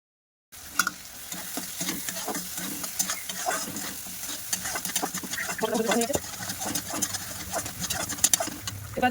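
Kashmiri chili powder and coriander powder stirred in hot frying oil for an aloo phulkopir dalna, with close scraping strokes over steady sizzling and occasional clinks throughout.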